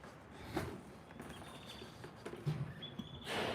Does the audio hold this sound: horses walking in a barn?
yes